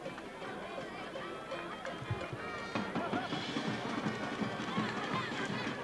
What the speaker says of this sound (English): Well, this crowd has arrived.